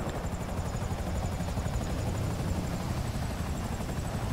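Helicopter flying in the video game GTA 5 Online, a steady, continuous rotor drone with a rapid chopping pulse, loud and close throughout with no talking.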